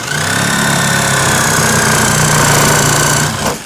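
A cheap Walmart power saw cuts untreated wood, a loud steady buzzing motor whine that runs nearly four seconds with a slight bogging strain before it cuts off abruptly at the end.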